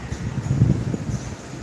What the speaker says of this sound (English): It's got a nice breeze today. Wind's up.